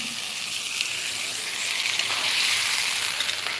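Water poured into frying masala in a pan over a wood-fired stove sets off a loud, steady hiss and sizzle that swells slightly midway and carries on without any talking.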